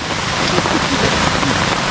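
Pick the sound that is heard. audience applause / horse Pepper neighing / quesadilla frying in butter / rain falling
rain falling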